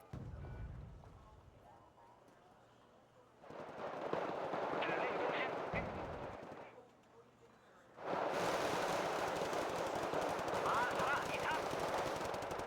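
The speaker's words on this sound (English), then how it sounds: "That's an autocannon." Autocannon fire in a video game, two long sustained bursts of rapid heavy shots separated by a quieter pause, with voices talking faintly at the start.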